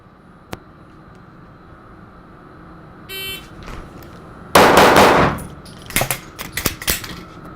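A handgun firing during a concealed carry training drill, with a metallic clang early on, then a loud close shot followed by a quick string of sharp reports at the end.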